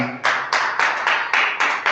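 A church congregation claps in steady rhythm during a worship service, with about six strong, evenly spaced beats of many hands together, loud and close.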